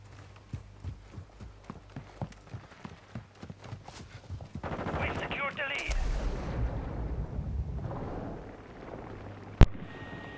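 Gunfire in a Call of Duty video game, a steady run of sharp rapid shots followed by a burst of explosions and rumbling blasts, ending with one loud crack.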